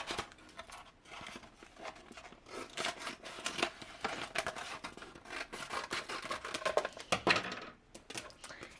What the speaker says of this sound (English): So I'm just gonna cut a piece.